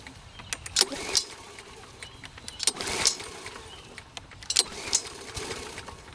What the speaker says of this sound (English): Let's see if the Troy Bilt will start.